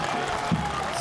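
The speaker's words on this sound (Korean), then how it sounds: "최선을 다한 경기에 두 사람 모두에게 박수를 보내는데요" Spectators clapping after a Turkish oil wrestling bout, a steady wash of crowd applause under a voice talking over it.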